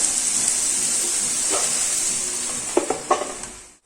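Food sizzles steadily in a pan for a Kerala home-cooked dish, with a few scraping stirs of a spoon near the end before the sound cuts off.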